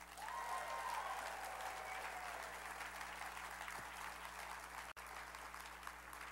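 Sustained applause with some cheering from a conference audience at a closing plenary, steady and dense throughout, heard from within the hall.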